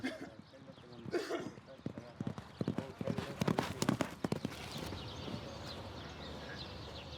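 Racehorse hooves clip-clop in a quick irregular rhythm at close range during training at the Beirut hippodrome, mixed with outdoor background noise and occasional voices.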